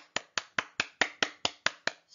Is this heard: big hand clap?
yes